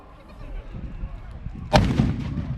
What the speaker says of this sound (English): Oh, huge explosions down there. These are tremendous.